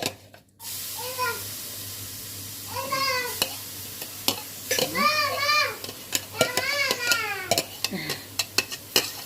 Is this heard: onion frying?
yes